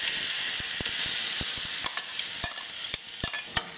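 Mustard seeds and cumin spluttering in hot oil for green mango gojju: a steady bright sizzle with scattered sharp pops and crackles that grow more frequent toward the end, close and fairly loud, no talking.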